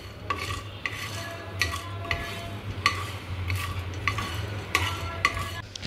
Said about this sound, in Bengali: এবার এই মশলাটাকে 30 থেকে 40 সেকেন্ড শুকনো খোলায় ভেজে নেব